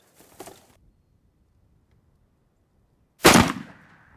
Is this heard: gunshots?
yes